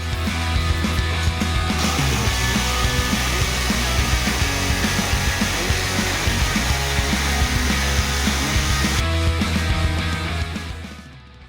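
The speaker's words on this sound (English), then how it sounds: "I'm going to use my old, very old jigsaw to cut it out" An old jigsaw cuts a circle out of a wooden panel, a steady buzzing, rasping drone that runs close and loud for about nine seconds before winding down and stopping.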